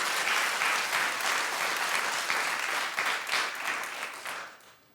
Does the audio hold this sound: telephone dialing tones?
no